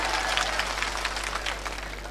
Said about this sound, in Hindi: ऐसे नहीं, मुझे तालियों से समर्थन चाहिए।